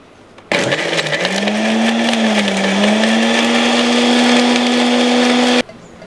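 A blender whirs loudly for about five seconds, starting and stopping abruptly, with a steady high motor whine as it grinds.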